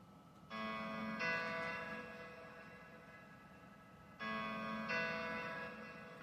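Playback of a simple two-chord piano pattern, C4 and G4, from a home studio; each chord rings out and fades, repeating twice in a steady, moderately loud cycle with no voices.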